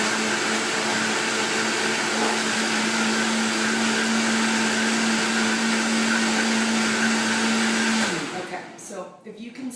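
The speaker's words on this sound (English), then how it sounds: "You can see how powerful the blender is." A blender making a green smoothie whirs at high speed with a steady, loud motor drone for about eight seconds, then winds down into rattling, uneven noise.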